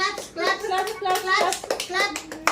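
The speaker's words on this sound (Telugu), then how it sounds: "చప్పట్లు కొట్టు" Small child clapping hands at a little girl's birthday celebration at her grandmother's home, quick uneven claps in short runs under a child's chatter and nearby voices.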